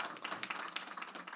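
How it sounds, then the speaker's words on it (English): Audience applauding panelists at a senior care and case management talk, a brief burst of dense quick claps, fairly faint and close-sounding, without speech over it. "a round of applause for our panelists today"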